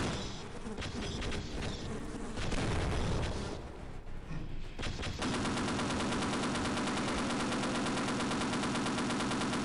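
Gunfire in Half-Life, dense rapid bursts of shots for the first few seconds, loud and close, giving way to a steady harsh buzzing mechanical drone.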